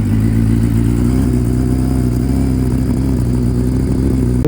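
A Honda Fireblade motorcycle engine idles while warming up, a loud, steady, close-up rumble with an even low throb that holds without a break for the whole stretch.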